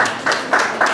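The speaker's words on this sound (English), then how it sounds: "Please let's give her a warm round of applause." A crowd applauds a Paramount Queen Mother at a gathering, the clapping rising and swelling in several short bursts close by, with no talk over it.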